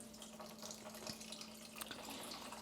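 Hot wort from a New England IPA brew transfers into the fermenter, a quiet continuous trickle and splash of liquid with a faint steady hum beneath.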